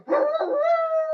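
A single drawn-out Great Dane howl, rising then holding a steady mournful tone, loud and close, with no other sounds around it.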